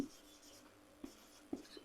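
A teacher writes on a classroom board during a biology lesson, with a few faint, isolated chalk or marker taps and scrapes over quiet room tone.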